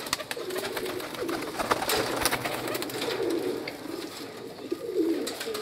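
Pigeons coo repeatedly, kept by a pigeon fancier, with soft throaty calls rising and falling over a steady bed of outdoor noise and occasional wingbeats or shuffling, fairly close.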